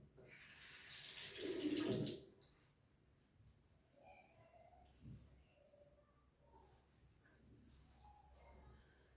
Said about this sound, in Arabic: نرطب وجهي بشويه ديال الماء كما تشوفوا معايا دابا